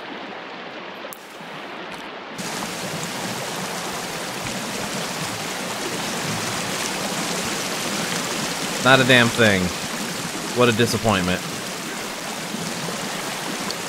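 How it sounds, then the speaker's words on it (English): A waterfall in the video game Sons of the Forest roars as a steady, loud broadband rush throughout, with someone talking briefly over it near the end. "Should always be something behind a waterfall in a video game."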